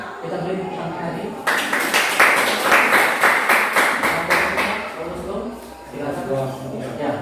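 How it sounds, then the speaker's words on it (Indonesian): A classroom audience claps for several seconds, with dense rhythmic applause surging up and then fading while a voice talks over it. "Silakan kita beri tepuk tangan lagi."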